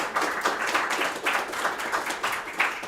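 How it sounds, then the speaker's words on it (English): Audience applause at a talk on translating Eugenio Montale, a fairly quiet, steady patter of many hands clapping in a room, with no voices over it. "yes, he deserves an applause"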